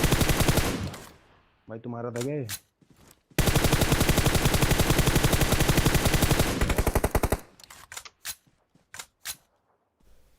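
Automatic gunfire in the mobile battle-royale game PUBG Mobile, a long sustained burst of rapid shots followed by scattered single cracks, loud and close, with someone speaking briefly between the bursts.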